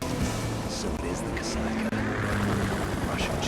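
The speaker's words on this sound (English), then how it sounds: "Kasaka. Russian choppers." Russian helicopters in the Metal Gear Solid 2 video game thrum in a continuous rotor drone with pulsing low tones and brief whooshes, fairly loud throughout.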